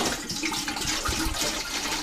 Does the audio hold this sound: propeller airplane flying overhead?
no